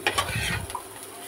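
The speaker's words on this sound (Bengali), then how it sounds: "অনেকটা তেল কম দিয়ে আলুটা ভাজা হচ্ছে আর কি" Chandramukhi potatoes fry in a pan with only a little oil, giving a short, soft sizzle with a brief stir or scrape near the start and no voices.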